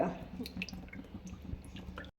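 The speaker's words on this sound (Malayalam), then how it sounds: "നമുക്ക് ഇതിലേക്ക് ഇച്ചിരി എണ്ണ ഒഴിച്ചു കൊടുക്കാം നല്ലെണ്ണ ഇച്ചിരി കൂടുതൽ ഒഴിക്കണം" Sesame oil is poured onto a tender mango pickle mixture, giving faint, close dripping and soft wet squishing sounds that cut off abruptly at the end.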